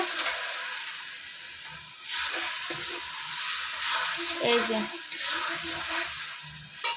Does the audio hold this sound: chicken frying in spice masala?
yes